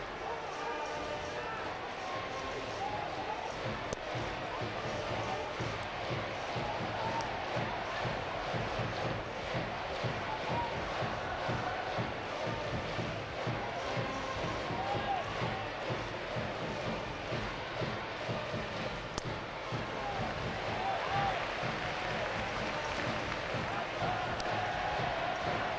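Stadium crowd noise behind the backstop at a 1992 summer Koshien high school baseball game between Meitoku Gijuku and Seiryo, a steady dense wash of applause and chatter under an announcer's continuous commentary.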